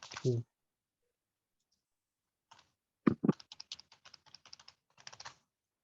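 A password is typed on a computer keyboard in quick bursts of close, crisp key clicks, briefly preceded by a short voice.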